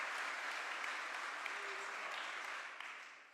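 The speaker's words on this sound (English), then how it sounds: "Give him a round of applause." An audience at a news conference claps steadily in a sustained round of applause that tapers off slightly at the end.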